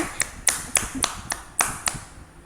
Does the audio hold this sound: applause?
yes